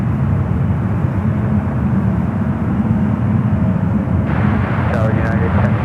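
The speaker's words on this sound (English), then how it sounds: "Fiji A330-300 up next for arrival" Fiji Airways Airbus A330-300 jet arriving at San Francisco airport, a loud steady broadband engine roar that holds evenly throughout, with faint voices talking in the background near the end.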